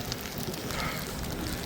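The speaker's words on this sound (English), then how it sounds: "You can hear the snow falling like a mixed of rain." Wet snow mixed with rain coming down on a New York City street in a blizzard, a continuous diffuse crackling hiss with light patter throughout and no one speaking.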